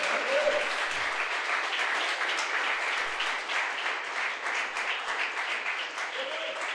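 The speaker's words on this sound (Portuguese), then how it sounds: "Aplauda ao Senhor pela vida do bispo" Church congregation at an anniversary service applauding, a long, dense round of clapping from many people filling the room, steady throughout with faint voices mixed in.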